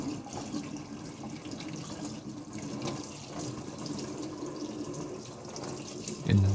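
Tap running steadily into a kitchen sink during morning dishwashing, a continuous soft splashing wash of water with faint clinks, fairly quiet and unbroken throughout.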